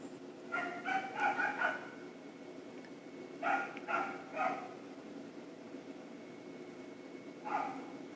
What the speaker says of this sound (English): There's a dog barking right now.